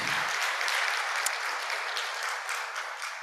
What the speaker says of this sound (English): We need another big round of applause.